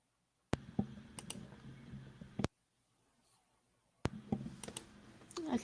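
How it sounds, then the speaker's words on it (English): Clatter of typing on a loud computer keyboard during a casual livestream chat, with bursts of sharp clicks on either side of a short quiet gap, close and fairly quiet. "My keyboard is loud as hell."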